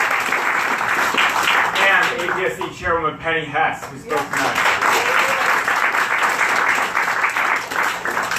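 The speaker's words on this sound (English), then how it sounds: "can we all give another round of applause for the incredible presentation?" Audience applause at a Days of Reparations to African People event in New York City, a steady, dense wash of clapping filling the clip, with a voice speaking over it in the middle.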